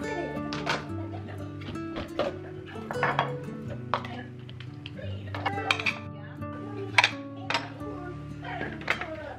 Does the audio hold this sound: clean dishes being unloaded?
yes